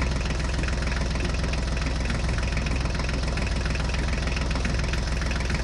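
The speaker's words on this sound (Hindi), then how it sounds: "नोबिता और शिजुका अपनी अपनी ट्रैक्टर गाड़ियों पर बैठ गए हैं।" A Holland tractor engine idles in a cartoon scene, a steady, loud, continuous low rumble with a fast rhythmic knock running unbroken throughout, no voices.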